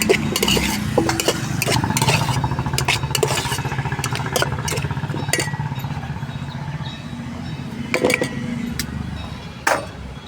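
Food being stirred in a cooking pan, with repeated scraping and metallic clinks of a spoon against the pan over a low rumbling hiss, close and fairly loud.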